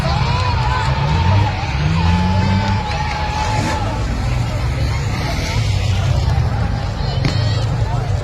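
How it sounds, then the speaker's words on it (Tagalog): Spectators at a ladies' final race heat shout and cheer in a loud, continuous roar, with engine noise in the mix and a voice talking close over the crowd. "Sigawan na yung mga tao oh."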